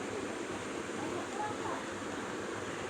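Pabda fish curry bubbling in a pot, a steady, dense hiss of boiling with no pauses, fairly loud and close throughout.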